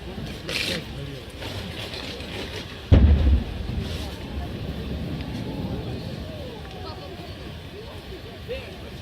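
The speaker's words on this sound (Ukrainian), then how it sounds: "Потужний вибух пролунав ввечері 2 січня у харківському парку Шевченка." An explosion at a cafe in Shevchenko Park in Kharkiv, caught on an eyewitness's phone in the evening: a single sudden loud boom partway through, then a lingering rumble over outdoor ambience and crowd noise.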